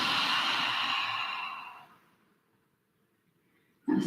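A single long, breathy exhale, loud at first and fading over about two seconds into near silence, then a short sharp intake at the end.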